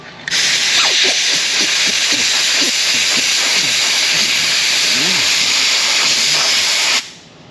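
Compressed air hisses loudly and continuously for about seven seconds during broken-spring suspension repair on a rusty Chevrolet Silverado 5.3, a close, steady blast that cuts off abruptly, with faint voice-like sounds beneath it.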